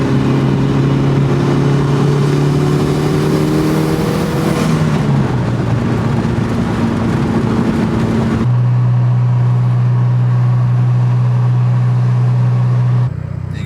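A Mitsubishi Evo cruises down a neglected back road with a loud, steady engine hum whose pitch shifts as gears change, then settles into a constant low drone.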